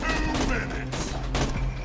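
Rapid gunfire from the video game Borderlands 2 fills the stretch in dense bursts with bright cracks, loud and close over a steady low game hum.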